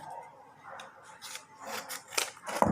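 Scissors cutting through folded paper for a tangram puzzle: a short run of crisp, close snips and rustles that grow slightly louder toward the end.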